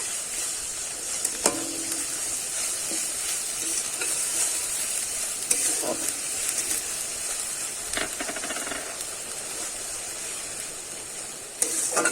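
Ginger and garlic paste frying in a pan for Bengali-style chicken kosha, a steady hissing sizzle lasting throughout with intermittent stirring clatters and scrapes, no speech.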